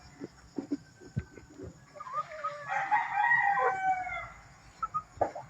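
A Gold Hatch rooster in a backyard breeder's yard lets out one long, loud crow in the middle, with scattered clucks and clicks before and after.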